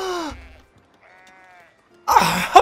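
Sheep bleating in the Foundation video game, a single wavering bleat alone between brief game sounds, followed by a louder burst.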